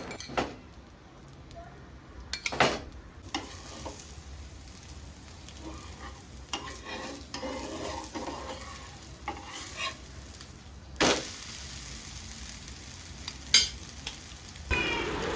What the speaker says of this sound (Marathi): मी थोडं थोडं सायटून ना तेल टाकते कारण तो पटकन परतला जाईल ना